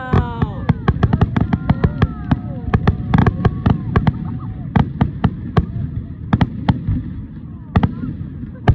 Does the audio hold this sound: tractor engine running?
no